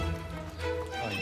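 A mixed pair of small horses, one brown and one black, trotting together on a horse farm, their hooves clopping steadily under a continuous broad background with a faint whinny-like tone.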